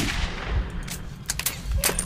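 Gunfire in the Metro 2033 video game, a few sharp, close shots with metallic clanks scattered across a couple of seconds over a low rumbling background.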